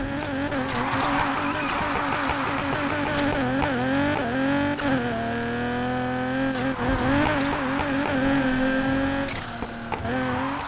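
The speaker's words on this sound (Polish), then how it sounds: "Tutaj już tym autem się zupełnie inaczej driftuje." A Nissan 350Z drifts in the racing game Need for Speed Heat, its engine revving and wavering in pitch under long, continuous tire squeal, loud and sustained throughout.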